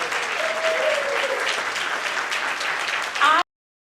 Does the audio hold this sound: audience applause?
yes